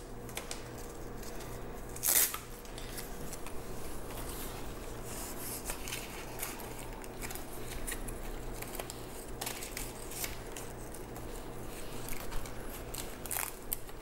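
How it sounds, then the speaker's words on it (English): Scissors snipping a length of tape used to stake a houseplant, quiet close crisp cuts and rustling spread through the clip with one louder crackle near the start. "I think I'm gonna put one more piece of tape. Oh, I need a longer piece."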